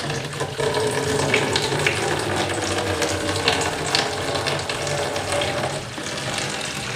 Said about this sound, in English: Take some of the water here, pour it in.